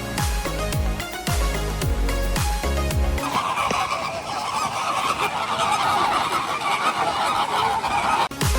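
Birds calling inside an aviary at Bird Paradise in Singapore: after a brief musical opening, a dense, loud wash of honking, goose-like calls and chatter fills the rest of the clip.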